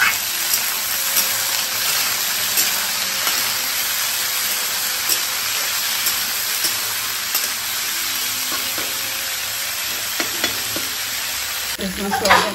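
Small unpeeled potatoes frying in oil tempered with fenugreek and chilli, a steady loud sizzle with ongoing stirring and scraping in the pan, near and without talk.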